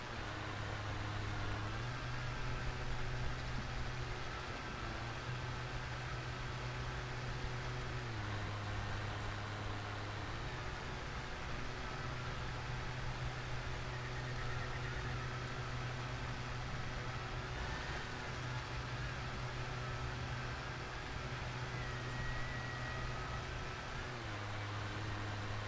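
Steady electric lawn mower hum from Lawn Mowing Simulator, a constant smooth whine with a low tonal drone shifting pitch a few times as the machine runs, continuous and even throughout.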